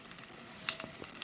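Cucumber seeds roast lightly in a pan with a soft, steady sizzle and a few faint scraping stirs, short and close.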